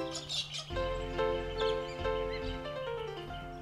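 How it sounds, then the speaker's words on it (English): A flock of wild galah cockatoos in open rural Australian woodland, giving bright chirping calls in a steady stream over a droning low background, fairly close and continuous. "The galahs are flock birds."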